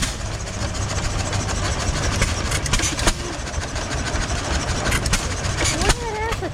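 Three John Deere stationary engines of 1.5, 3 and 6 horsepower run together at a vintage show, a steady mechanical chugging with clanks and broadband noise throughout as people talk nearby.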